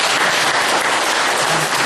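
Audience applause at a talk, a dense, loud, continuous wash of clapping filling the room throughout with no voices over it.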